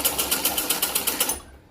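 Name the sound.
sewing machine stitching a blouse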